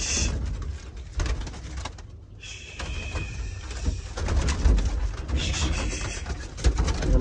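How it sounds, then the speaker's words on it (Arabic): Domestic pigeons coo softly and repeatedly as they are released from their loft, a nearby fluttery murmuring over a low room-like hum with a brief quiet gap. "نطلع الطيور"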